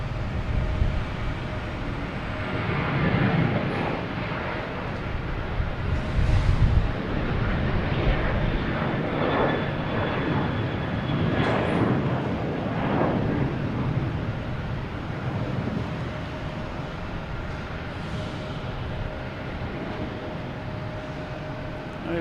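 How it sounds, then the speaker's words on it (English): An American Airlines Boeing 737 bound for Miami rumbles at Boston Logan at night, its broad jet roar swelling and fading in waves for the whole stretch with no voices over it. "American Airlines heading to Miami, 737."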